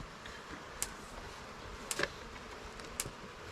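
Honeybees buzz faintly around a relocated swarm hive outdoors, a low steady drone broken by a few sharp clicks and taps.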